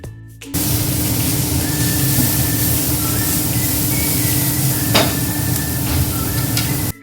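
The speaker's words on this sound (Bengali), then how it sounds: "তারপর আরেকটু নাড়াচাড়া করে নেব।" Vegetables for Bengali-style egg chowmein sizzle and hiss steadily in a hot pan while being stirred, with a few sharper spatula scrapes and clinks on top; loud, close and continuous with no talking.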